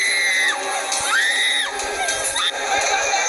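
A violent crowd shouts and screams during attacks on Hindus in Bangladesh, with a dense wall of raised voices and rising yells. The noise is loud and continuous throughout.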